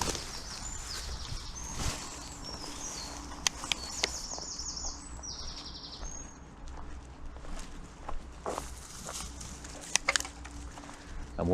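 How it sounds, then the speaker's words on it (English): Early morning birds chirp and call steadily in open woodland, bright and fairly near, with occasional footsteps and rustling underneath; no one speaks. "You can listen to all the early morning birdsong."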